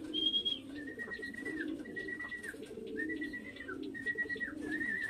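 Pigeons coo softly and repeatedly in a steady rhythm, heard fairly faint, with a few higher chirps mixed in over light background noise.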